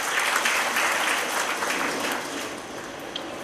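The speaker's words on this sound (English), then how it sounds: "a big round of applause for that as well" Applause at an Ayurveda medical college welcome ceremony, a dense burst of clapping from the audience that gradually tapers off toward the end, with no speech over it.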